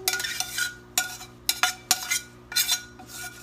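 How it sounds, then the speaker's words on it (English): Cooked spaghetti squash scooped into a bowl, a series of distinct utensil scrapes and clinks against the dish in irregular bursts, close and moderately loud. "Okay, I'm just gonna put all of it into this bowl."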